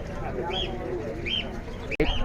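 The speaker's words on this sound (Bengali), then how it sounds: "হাটে আরো কিছু কবুতর আছে" Pigeons at a pigeon market give several soft rising-and-falling coos, one after another, over a busy crowd murmur with a brief knock near the end.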